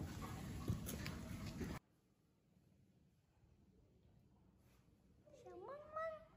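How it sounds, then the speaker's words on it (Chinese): A kitten meows once near the end, a short rising, wavering call at low volume in a quiet room, after a louder burst of background noise at the start. "小猫猫，"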